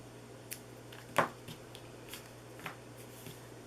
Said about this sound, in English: And then I want to trim these a little bit more.